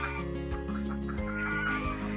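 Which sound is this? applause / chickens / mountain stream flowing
chickens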